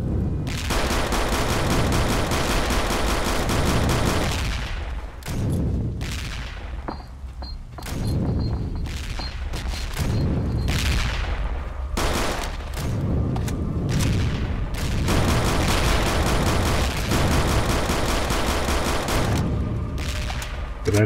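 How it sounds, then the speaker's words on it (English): Rifle and machine-gun fire in Return to Castle Wolfenstein, loud repeated bursts and booming shots that come in clusters with brief gaps, continuing throughout. "Nicely timed shot, sir."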